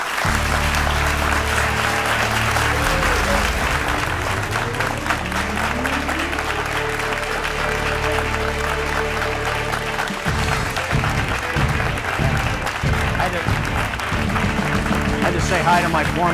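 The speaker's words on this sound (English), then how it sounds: "So I hope you'll join me in one more round of applause" An audience gives a long, full round of applause welcoming retired astronaut Scott Kelly, dense and sustained, with talk carrying over the clapping in places.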